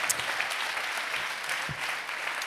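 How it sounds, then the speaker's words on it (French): An audience at a corporate round-table conference applauds the panel members, a dense, continuous patter of many hands that is fairly soft and distant and lasts throughout. "je pense qu'on peut les applaudir."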